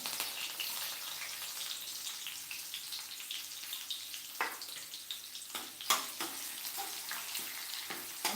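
Finely chopped onion dropped into hot oil with cumin and a little mustard seed, sizzling steadily, with a few sharp crackles and stirring clinks.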